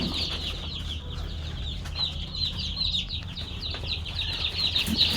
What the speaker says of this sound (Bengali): এই যে একদম জিরো বাচ্চা, তারা ঠিক মতো হাঁটতেও পারে না